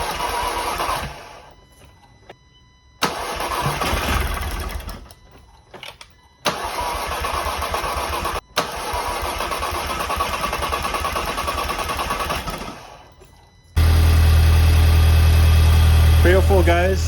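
A VW Golf GTI Mk5 engine cranks in several separate bursts with pauses between them, then catches and settles into a loud, steady idle near the end.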